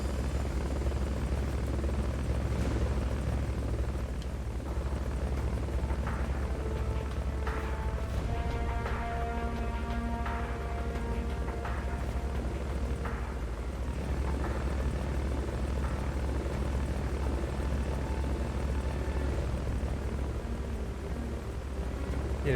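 Helicopter in the video game Metal Gear Solid Peace Walker, a loud steady rotor drone that fills the whole stretch with a constant low throb under scattered electronic game tones and beeps.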